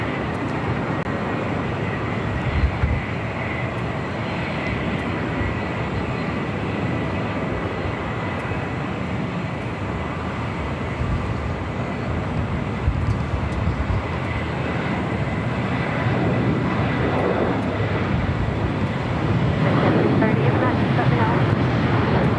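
A JetBlue jet departs LAX, a sustained roaring engine drone that swells slightly toward the end, while radio voices speak over it.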